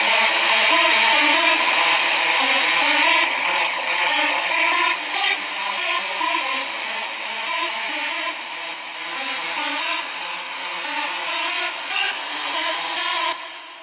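A hardstyle synth lead made of three layered voices panned left, right and center plays a bright, buzzy sustained melody with shifting notes, loud and continuous throughout.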